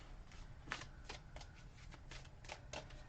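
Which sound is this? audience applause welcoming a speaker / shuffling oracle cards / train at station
shuffling oracle cards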